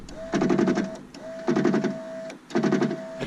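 Worn-out window regulator motor in an old car door being bench-tested, three short whirring, grinding bursts about a second apart, each with a buzzing hum, close and clear without talk.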